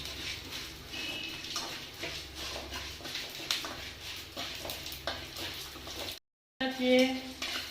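A steel spoon stirs vegetables dry-roasting in a pan, giving soft scraping and clinking with faint sizzling underneath, a brief gap of silence, then a few more scrapes near the end.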